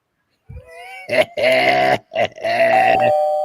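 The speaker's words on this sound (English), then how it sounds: "judging by the fucking asshole ringing the doorbell" A doorbell chimes in a two-tone ding-dong pattern, bright and close, ringing twice in succession with a brief pause and a lingering final tone.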